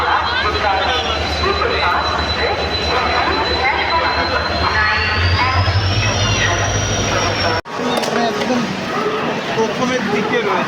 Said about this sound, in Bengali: ওই দেখো আলোটা দেখতে পাচ্ছ, ওখান থেকে আসছে ট্রেনটা